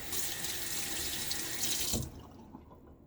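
Water runs steadily from a tap into a sink while shaving lather is being prepared, a close, even gush that stops abruptly after about two seconds, leaving a quiet tail.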